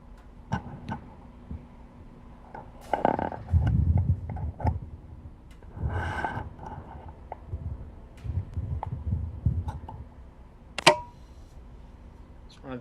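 Keys on a computer keyboard click in sparse, irregular taps, faint and close, alongside low murmuring and background room noise with a few louder clacks.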